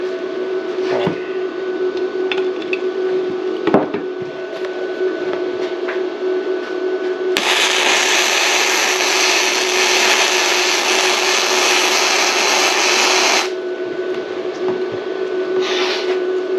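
A Bestarc MIG145 MIG welder lays a bead on a metal corner, a steady loud crackling hiss lasting about six seconds over a constant electrical hum, which continues after the arc stops.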